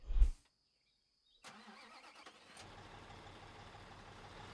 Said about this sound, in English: I need to jump then into the pump truck